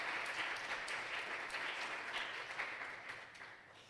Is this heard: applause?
yes